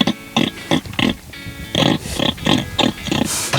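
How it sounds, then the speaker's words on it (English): A young Tamworth pig on a farm gives a run of close, rhythmic grunts and snorts, about a dozen short bursts in quick succession with no talking. "I'm looking at a pig."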